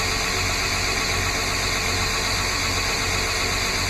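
A belt grinder with a worn, burnt 60-grit belt roughs the bevel of a stag-handled Bowie knife, producing a loud, steady, unbroken grinding roar throughout.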